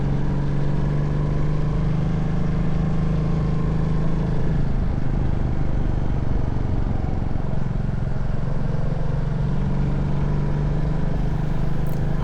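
A small Royal Enfield motorcycle carrying a passenger climbs a mountain road in the Vosges, its engine a steady, loud drone that shifts pitch partway through as it pulls out of a hairpin, continuous and without talk.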